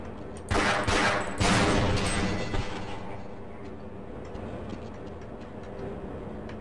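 Automated turrets firing in Half-Life 2, heard as a loud rattling burst of rapid shots followed by a quieter continuing clatter that fades into game ambience.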